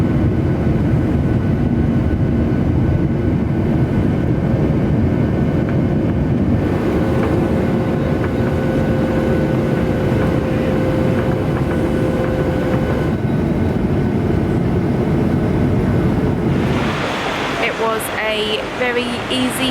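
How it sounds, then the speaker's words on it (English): Steady, loud broadband roar of a Ryanair airplane cabin in flight, a constant low rumble with faint voices murmuring underneath throughout. "we are on board our Ryanair flight to Porto"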